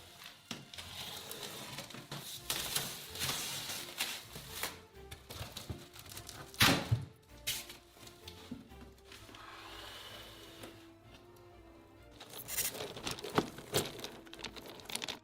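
Plastic packaging holding blocks of dry ice being torn open and crumpled, with a rustle of crinkling and tearing that rises and falls through the clip and sharp bursts around the middle and near the end, close and fairly quiet, no talk.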